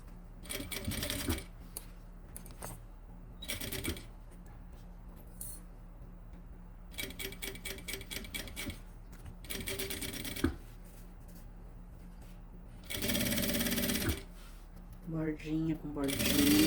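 A sewing machine stitches fabric for a luxury toiletry bag in short, fast bursts of needle rattle separated by pauses, heard close, with speech at moments between runs.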